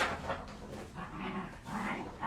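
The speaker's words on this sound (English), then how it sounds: "You can hear my dogs." Pet dogs indoors in a home craft room, giving a few short whimpering yips and barks in quick, uneven bursts, fairly close and moderately loud.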